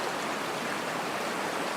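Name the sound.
rushing stream water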